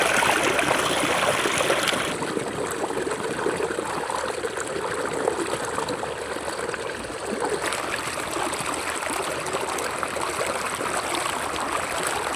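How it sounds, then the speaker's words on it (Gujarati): Irrigation water pouring from a channel into a farm field makes a steady, close, rushing and gurgling flow that holds at an even loudness throughout, with no voices. "ફાઇનલી પાણી આવી ગયું"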